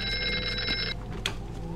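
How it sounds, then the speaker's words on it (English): Telephone ringing inside the VR horror game Here They Lie, a steady electronic bell tone repeating for about a second and then cutting off, followed by quieter ambient game noise and a brief click. "Where's the phone coming from?"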